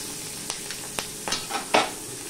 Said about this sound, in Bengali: এবার কাঁচা লঙ্কা ফোড়নে দিয়ে দিলাম।